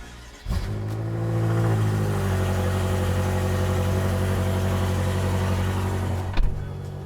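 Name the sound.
BMW M6 car engine idling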